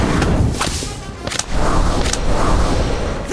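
Incendio fire spells cast in the game Harry Potter: Magic Awakened burst out as sharp whip-like cracks and whooshing blasts. A few loud, close hits stand over a rumbling, busy combat background.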